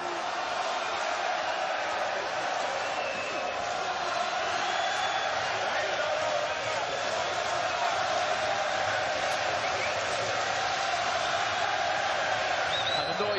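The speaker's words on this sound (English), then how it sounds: "This is what this crowd's been waiting for" Boxing arena crowd during round nine of Ryan Burnett vs Zhanat Zhakiyanov, a dense, steady roar of cheering and shouting that stays loud and unbroken throughout, with voices buried in the din.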